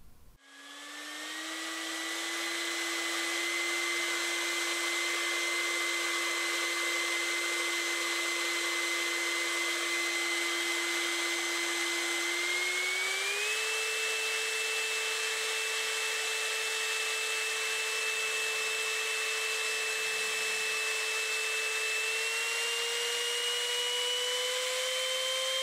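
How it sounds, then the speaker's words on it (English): An electric ducted fan runs alone on a thrust test stand without its afterburner, a loud, steady high whine that spools up at the start, holds and steps higher in pitch twice. "This first test is without the afterburner and just the EDF alone."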